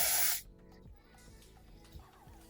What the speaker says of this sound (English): So now we can spray on our Fix It spray.